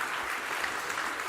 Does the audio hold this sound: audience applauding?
yes